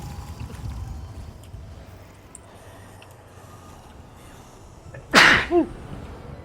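A single sharp sneeze bursts out near the end, loud and close, rising out of a quiet, murmuring room background.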